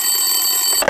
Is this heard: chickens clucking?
no